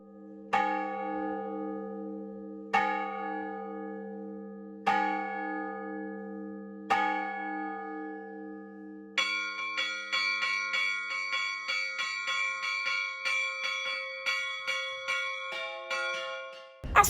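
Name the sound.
church bells ringing festive peal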